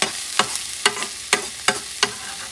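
Garlic sizzling in a pan on the stove with a steady frying hiss, broken by about six sharp scrapes of a utensil stirring it at a regular pace, heard close up and without speech.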